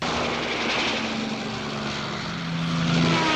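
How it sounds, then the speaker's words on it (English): A helicopter from a 1963 James Bond film drones steadily and loudly throughout, with a dense whirring rotor roar and no voices. "Like that has to be a real helicopter, right?"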